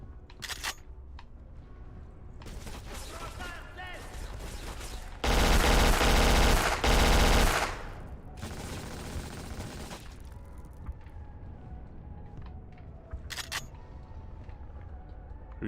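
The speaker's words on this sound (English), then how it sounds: "Who's shooting at me though?" Gunfire in the video game Black: scattered sharp single shots, then a loud, dense burst of rapid automatic fire lasting a couple of seconds, followed by a quieter spell of shooting and sparse clicks.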